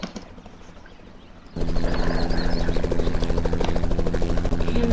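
Helicopter spawned in the video game Mansion Tycoon starts up partway through, a loud steady rotor whir with a constant low hum that continues to the end, following a quieter stretch.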